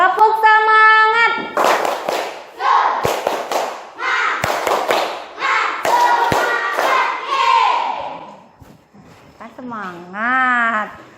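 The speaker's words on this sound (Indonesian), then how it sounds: "agar lebih bersemangat, kita tepuk semangat dulu." Classroom of pupils doing a rhythmic spirit clap led by their teacher, bursts of patterned group clapping mixed with chanted voices, close and lively, ending with a sung call.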